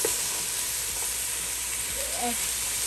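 Carrots and celery sizzle in a soup pot, a steady broadband hiss of frying vegetables holding throughout, with soft stirring sounds and faint background noise.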